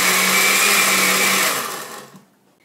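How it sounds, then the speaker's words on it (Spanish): A blender whirs steadily as it purées a strawberry banana smoothie of fresh strawberries, peeled bananas, milk and ice cream, then winds down and stops near the end; no one speaks. "Echas todos los ingredientes en la licuadora."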